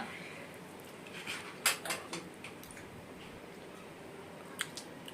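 A long, cheap metal spoon being handled, giving a few light clinks and taps in a quiet room with faint background noise and no talking.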